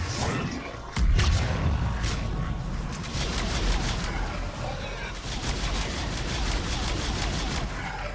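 A grenade explosion in the Mass Effect 3 video game lands as a sudden loud blast, followed by rapid gunfire and combat noise, with a voice talking over the action.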